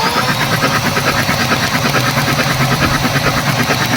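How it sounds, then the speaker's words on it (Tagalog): A Mazda BT50 2.2 diesel engine, fitted with a new ECU and replacement injectors, cranks and turns over with a loud, rapid rhythmic chugging that carries on close and alone without speech. "Okay, engine crank."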